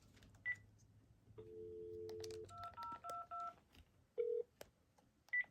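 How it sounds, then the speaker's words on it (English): Telephone tones as a call is placed to a Panasonic KX-TG6434 cordless phone: a low hum, then a steady tone followed by a short run of distinct keypad beeps and a few isolated clicks, quiet and close. "Now let's call this phone and leave a testing message."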